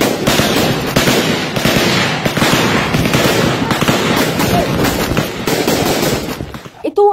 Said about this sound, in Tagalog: Ito ang aktual na pakikipagpalitan ng putok ng tropa ng 2nd Infantry Battalion